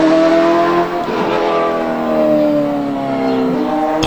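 BMW M3 race car accelerating, its engine note rising steadily in a loud, close, continuous pull with clear harmonic whine.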